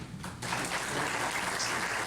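An audience at a candidates night breaks into applause, a brief dense wash of clapping that swells after a short quieter start and holds at moderate volume.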